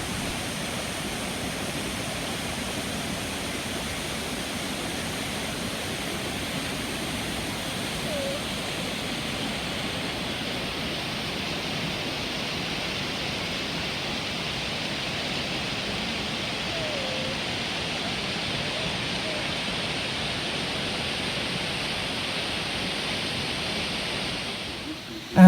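Broad steady roar of a waterfall in a gorge spanning three stacked bridges, constant and moderately loud for the whole stretch, with no voices.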